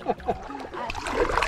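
Soft splashes and water swirls from paddling a canoe on the Suwannee River, a few light strokes close by, fairly quiet.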